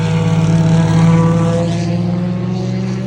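Race cars lapping the Watkins Glen circuit during the six-hour endurance race on a drying track after rain, with a loud, sustained engine drone that builds and then recedes slightly as the cars pass.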